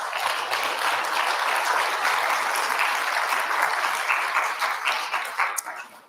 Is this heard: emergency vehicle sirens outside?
no